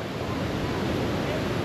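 Waterfall at an easily reached falls visited in Chile, heard up close as a steady, loud broadband roar of rushing and splashing water with no breaks.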